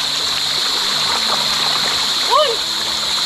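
Water streams and splashes continuously close by, a bright steady rush with a brief louder splash near the end, while people talk over it.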